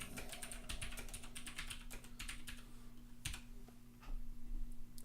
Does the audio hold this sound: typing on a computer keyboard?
yes